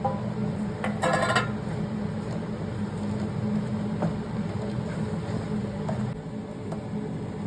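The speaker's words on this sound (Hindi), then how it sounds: "इसको अच्छे से चलाते हुए सारी चीज़ों को मिक्स कर लेंगे।" Sesame gazak mixture being stirred in a pan, giving metallic scrapes and clinks of a utensil against the pan over a continuous low background hum, with one louder rattling burst early on.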